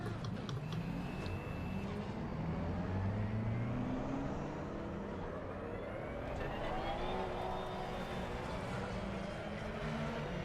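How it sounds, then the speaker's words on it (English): Engine roar from a racing car in Assetto Corsa Competizione with rising and falling tire squeal from a wheel, continuous and fairly loud, no talking. "I can hear the wheel screeching."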